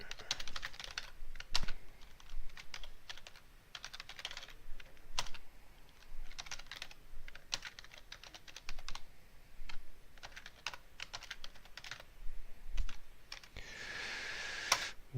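Steady typing on a computer keyboard, a continuous run of close, quick key clicks with uneven rhythm and occasional louder strikes, no voices.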